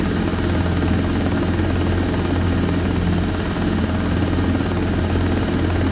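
Robinson R22 helicopter in flight, a loud, steady rotor and engine drone heard from inside the cabin, continuous and unbroken, with no talk.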